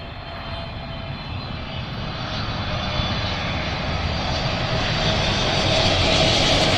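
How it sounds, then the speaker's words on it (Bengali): A Saudi Airlines Boeing 777 approaches to land at Dhaka, its engines a loud, continuous roar that swells steadily as the jet draws nearer to spectators watching near the airport. "সৌদি এয়ারলাইন্সের বিমান।"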